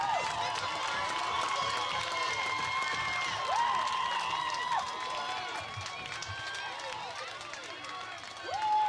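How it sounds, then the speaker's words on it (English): A high school football crowd cheers and roars steadily through a fourth-and-goal play, a loud, continuous wash of voices with an announcer talking over it. "And here comes the Jayhawk crowd."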